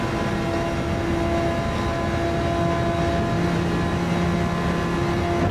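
Car engine in Gran Turismo 7 held in fifth gear at the rev limiter on the Trial Mountain circuit, a steady high, loud engine whine sustained throughout with no talk.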